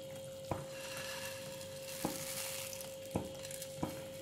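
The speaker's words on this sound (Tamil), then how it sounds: "சேமியாவை இதில் போட்டுடலாம்." Soft bubbling and a sizzling hiss as roasted vermicelli goes into a pot of boiling water, with a few sharp clinks of a utensil against metal, steady and fairly quiet.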